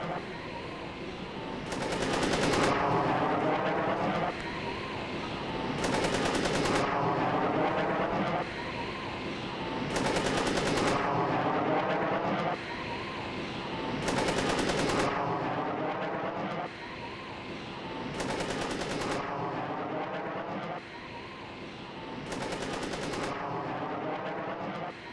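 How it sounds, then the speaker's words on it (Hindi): Soldiers in Azerbaijani army training fire guns at a UAV, loud bursts of gunfire recurring about every four seconds over a continuous rumbling roar. "यूएवी पर फायर करते नजर आए सैनिक"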